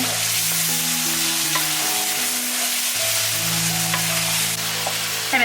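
Tomatoes and wood ear mushrooms being stir-fried in a wok, a steady bright sizzle throughout with scattered metallic scrapes and clinks of the spatula, close and continuous.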